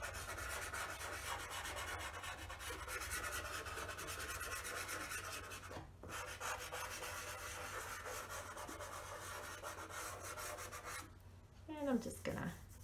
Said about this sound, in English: I'm just going to rub that in a little bit. Again, I'm using my finger.